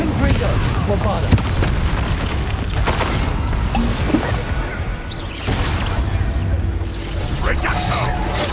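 Bombarda spell blasts in the video game Hogwarts Legacy during a duel, a dense stream of loud booming explosions and crashing impacts, with short spoken spell names and voices mixed in over the din.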